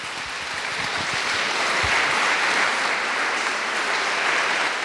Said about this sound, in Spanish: queremos agradecerle con un fuerte aplauso al Padre